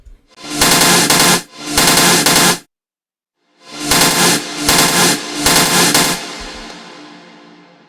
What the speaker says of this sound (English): he had these Rave Stabs going on, and I recreated them with this plugin called Rave Generated 2